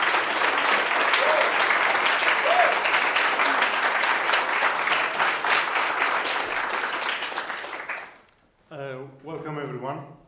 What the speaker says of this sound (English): Please welcome them also with a warm round of applause.